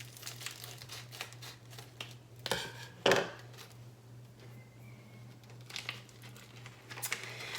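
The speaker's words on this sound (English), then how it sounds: "What I'm going to do is cut my package open here." Scissors snip open a plastic package of vanilla beans at a kitchen counter: a short crinkling rustle followed by one sharper cutting crunch around the middle, over a steady low hum.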